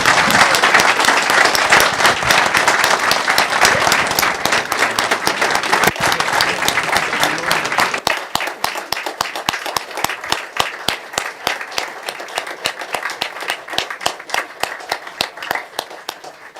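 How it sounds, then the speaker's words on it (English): Council meeting audience applauding the Clarksville Jeep Crew, honored for heroic contributions; a loud, dense round of clapping fills the room, then thins into sparser, distinct claps that taper off toward the end. "Let's give them a round of applause."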